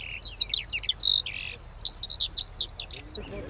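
A Eurasian skylark sings in open fields, a rapid run of high warbling chirps and trills in quick bursts with short gaps, close and clear, with faint low rumble underneath.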